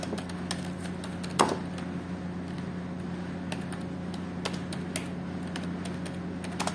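Computer keyboard keys tapped in sparse, light clicks with one louder press early on, close against a steady background hum.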